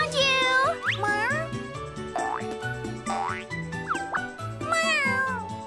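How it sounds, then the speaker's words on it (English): An animated cartoon cat, a character in the children's show Tayo the Little Bus, lets out several bright, sliding meows over a bouncy musical backing with boing-like accents. "Meow!"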